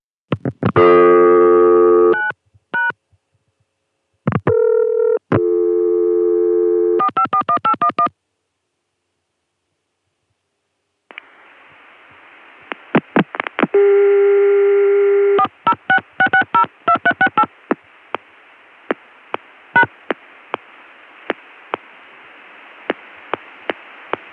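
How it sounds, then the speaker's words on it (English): Telephone call on a Chicago CCSA corporate network: bursts of touch-tone dialing, a steady dial tone, then more dialing and a run of clicks, loud and close with no voices. "This ends up giving me a Chicago CCSA dial tone."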